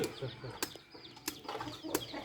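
Chickens clucking on a rural farm, a scatter of short, fairly faint clucks and squawks mixed with sharp knocks and background clatter.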